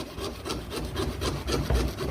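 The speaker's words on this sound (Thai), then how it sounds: "เลื่อยตัดออกมาเลยก็ได้นะเลื่อยตัดออกมาเลยก็ได้" Steady back-and-forth sawing through wood, rhythmic rasping strokes close by, about four strokes in two seconds, no voices.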